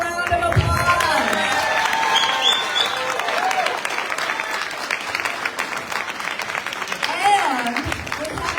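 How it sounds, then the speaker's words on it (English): Sustained audience applause fills a Chicago 6th Ward aldermanic election forum for the candidates, dense clapping with crowd noise and some voices mixed in, steady throughout with a slight swell near the end. "Let's give them a round of applause"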